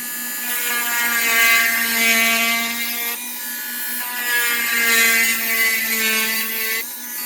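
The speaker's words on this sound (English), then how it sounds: "you can come through and carve your stuff into it with the rotary tool again" A rotary tool whines steadily with a strong tonal hum and harmonics as it carves a model brick wall, the pitch dipping and recovering as the bit bites into the material, close and continuous.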